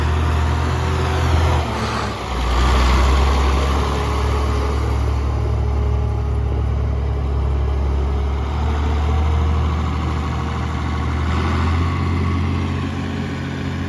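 A 1955 Oliver tractor engine runs steadily at close range, a loud continuous low rumble with a brief dip and recovery near the start and no talk.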